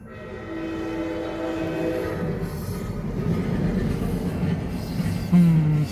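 An Amtrak Cascades Talgo passenger train rolls southbound through Kelso, Washington with a steady, loud rumble of cars passing close by, a sustained horn tone near the start and a brief horn blast near the end.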